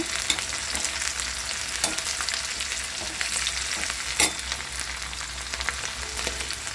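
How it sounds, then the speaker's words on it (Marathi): Onion and green chillies fry on a hot griddle with a constant close sizzle, broken by a few spatula scrapes and taps as they are stirred. "गरम तव्यात करणार आहोत मस्तपैकी कांदा टाकला भाजायला त्यानंतर मिरच्या पण टाकल्या पण भाजायला"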